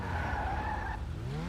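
GTA 5 car tyres screech during a hard brake test. A continuous, moderately loud squeal drops in pitch as the car stops.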